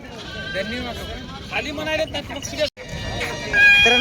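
Goats, including a local native breed, bleat repeatedly amid a busy crowd of overlapping voices at a goat market in Kalamnuri, Hingoli, with a chicken clucking in the background.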